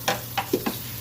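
Turkey curry with potatoes is stirred in a pan in four quick, close scraping strokes over a faint sizzle.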